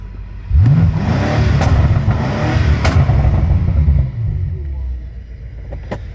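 A BMW M5 Competition fitted with catless downpipes and front-mount intakes revs hard, rising to a loud sustained roar for several seconds, then dropping back to a rumbling idle with a few light pops.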